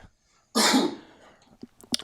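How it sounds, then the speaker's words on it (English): A short burst of coughing, one loud harsh cough followed by a fading rasp, then a couple of smaller throat sounds close to the mic, with no talk over it. "I'm coughing so much."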